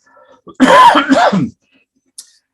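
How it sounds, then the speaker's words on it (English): One loud, close cough-like throat clearing, a harsh burst lasting about a second, with a tiny click just after and quiet around it. "I'm going to cough again, excuse me"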